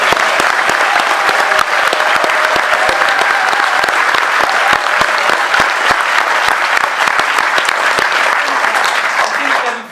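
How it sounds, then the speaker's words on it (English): A big round of applause for Alex and his Devon for Europe team at a pro-European rally, loud and continuous crowd clapping filling the whole stretch with sharp individual claps standing out. "a big round of applause to Alex and all his team in Devon for Europe"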